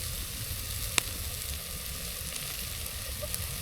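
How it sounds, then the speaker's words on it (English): Vegetarian sausage, celery, carrot, onion and garlic fry in a pan with a steady, close sizzle, broken once by a sharp metallic clink. "So I've got my sausage in there, some celery, some carrot, onion and garlic. That's all cooking down there."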